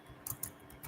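Quick clicks of fingers typing on a computer keyboard, a few soft key taps in a brief uneven burst, near and quiet with no voices.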